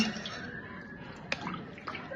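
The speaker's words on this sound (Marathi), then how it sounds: "आता यामध्ये थोडस पाणी टाकायचं आपल्याला." Water is poured into a cooking pot for dal, a brief splashing trickle with a sharp splash midway, fairly quiet and alone.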